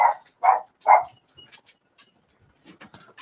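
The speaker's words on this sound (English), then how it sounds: "you go check on that dog" A dog barking three times in quick succession, close and sharp, followed by faint scattered kitchen noises.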